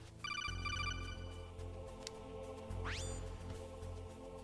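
In the stealth action game Metal Gear Solid, an incoming call rings as a fast repeating electronic trill, stopping partway through, followed by a rising chirp as the codec line opens over a low steady hum.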